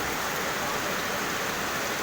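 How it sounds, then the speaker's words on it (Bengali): A dense, steady roar of heavy rain pouring down, loud and continuous. "দেখো কী পরিমাণে বৃষ্টি হচ্ছে বন্ধুরা দেখো"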